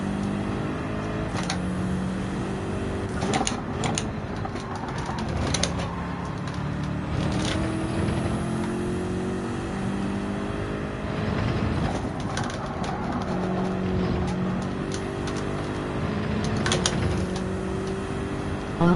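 BMW GR3 race car engine in Gran Turismo on the Barcelona-Catalunya circuit, a sustained revving drone rising and falling through gear changes with sharp shift blips, steady and loud throughout.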